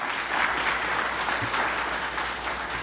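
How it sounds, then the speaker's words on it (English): A crowd at a Willowbrook Wolverines versus Marshall Mustangs youth quiz bowl tournament applauds steadily, a dense and even wash of many hands clapping throughout with no talk. "let's give a nice round of applause for the Willowbrook Wolverines"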